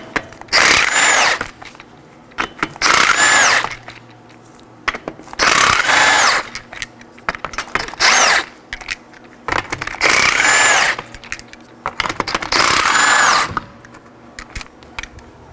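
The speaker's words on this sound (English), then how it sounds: "To remove the wheel, we have 5 21mm lug nuts. I'll be using a 21mm socket to remove those." Five 21mm lug nuts come off the front wheel of a 2013-2019 Nissan Sentra under a power tool with a 21mm socket, loud close bursts of whirring and rattling, each about a second long, separated by short pauses with faint clinks.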